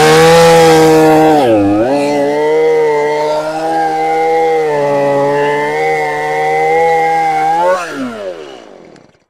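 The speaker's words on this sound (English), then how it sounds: "So I grabbed my chainsaw, headed for the wood pile, and looked for a suitable log for this project." A chainsaw cuts into a hickory log at a woodpile, its engine loud and close with a steady high whine that dips as the chain bites, then winds down near the end.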